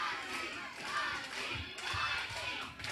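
Wrestling crowd at a House of Horrors match cheering for Simon, a loud, steady wash of massed voices that rises and falls in waves, with occasional thuds underneath.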